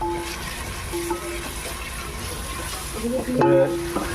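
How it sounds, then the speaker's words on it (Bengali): Onions frying in a pan for Hyderabadi dum biryani, a steady low sizzle with stirring scrapes and clinks of a utensil, moderately close, with brief tonal kitchen sounds near the end. "পেঁয়াজটা লাল লাল করতে হবে।"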